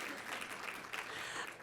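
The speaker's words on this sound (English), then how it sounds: "Slow clap, thank you." Applause rises from an audience seated at tables during an annual realtors' association meeting, a brief and fairly soft patter of many hands clapping.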